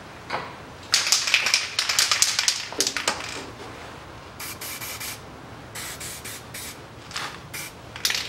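Lubricant sprayed onto the bolt threads of a 2007 Ford Ranger 2.5 turbo during clutch replacement, several close, loud hissing bursts of varying length over quiet workshop background.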